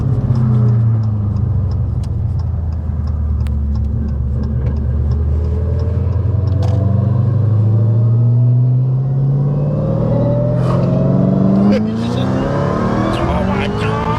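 A supercharged Dodge Hellcat with an FBO manual 6-speed builds revs in a long, loud pull, the engine note and supercharger whine rising steadily, with occasional clicks over the roar.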